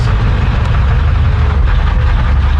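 Ford F-100 pickup engine idling with a lopey cam tune, a steady, loud, low rumble up close with no talking over it.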